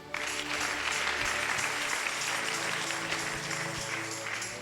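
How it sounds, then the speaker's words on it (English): A church congregation at a Sunday service claps for Jesus, with steady, dense, loud applause and a few low thumps underneath, continuing throughout. "Come, clap for Jesus."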